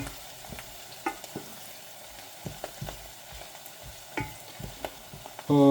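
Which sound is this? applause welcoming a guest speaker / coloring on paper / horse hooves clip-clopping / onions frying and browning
onions frying and browning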